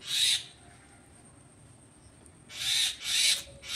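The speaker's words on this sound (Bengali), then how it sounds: "আর এই যে শালিক পাখিটা দেখছো না, এত চেঁচাচ্ছে" A common myna gives loud harsh calls in short bursts, one at the start and two more close together near the end, with a quiet stretch between.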